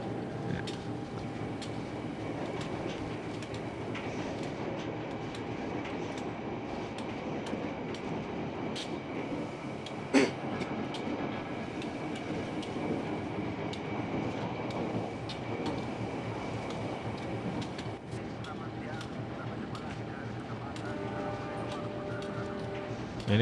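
Matarmaja passenger train on the Malang–Jakarta route, simulated in Trainz Simulator near the Karangkates dam after a tunnel, running with a steady continuous rumble and rolling-stock noise, one brief sharp click midway.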